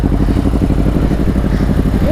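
A motorcycle engine is revved hard in a lakeside rev battle at Kodaikanal, producing a loud, close, steady throbbing roar with fast even pulses throughout.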